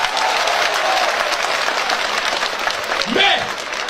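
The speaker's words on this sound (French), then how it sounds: "Applaudissons, n'ayons pas peur." Audience applause at a speech in Niger, a continuous broad wash of clapping from a crowd, with a brief voice rising near the end.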